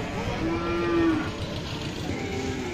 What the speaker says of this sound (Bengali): এই দিকে একটা দেখতে পাচ্ছি সম্পূর্ণ দেশি জাতের শুকনা হাড্ডি গাভী গরু